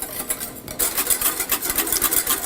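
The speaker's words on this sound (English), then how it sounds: "You want to keep whisking constantly." Egg yolks and lemon juice are whisked constantly in a bowl over a low simmer, a brisk rhythmic scraping and ticking of the whisk, close and steady throughout.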